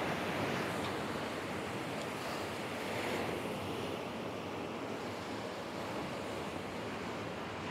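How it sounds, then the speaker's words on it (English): Continuous roar of ocean surf breaking steadily against rocks at Burleigh Heads, with gusts of wind buffeting the microphone throughout. "heaps of waves crashing on it."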